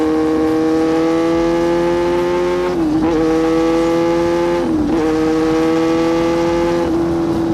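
A loud Yamaha R6 sport motorcycle with a modified exhaust, its engine holding a steady high-pitched whine while riding, dipping briefly at two gear shifts before climbing again, heard close and continuous with no talk.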